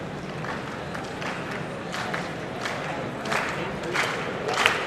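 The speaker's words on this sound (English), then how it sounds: "So the hand clapping begins as we await game number 3" Spectators applauding between games at a 1997 table tennis match, Jan-Ove Waldner versus Yan Sen, a steady, moderately distant patter of hand clapping with scattered louder claps building slightly toward the end.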